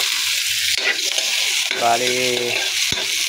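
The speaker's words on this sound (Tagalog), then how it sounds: "Gigisa na tayo ng mga sibuyas mga idol. Sabay na natin ng luya mga idol." Onions and ginger sautéing in a pan for a coconut-milk shrimp dish, a steady close sizzle with stirring scrapes throughout, while someone speaks briefly over the cooking.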